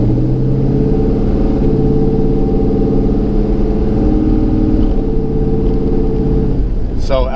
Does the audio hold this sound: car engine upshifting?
yes